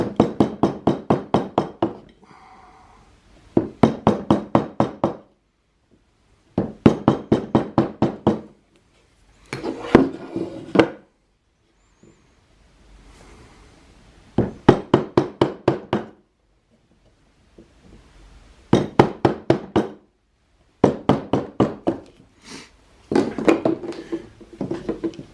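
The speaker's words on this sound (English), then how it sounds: "I'm just going to take a little chisel and knock two little slots in there" A small chisel is struck to knock two little slots into wood while upgrading a leather vice: close, sharp wooden knocks in quick bursts of several blows, separated by short pauses, with no talking.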